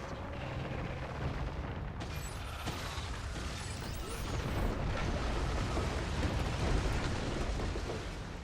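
Homing missile explosions in Path of Exile 2, a dense run of booms, bursts and mechanical rumbling that swells louder in the second half, loud and continuous with game effects layered throughout.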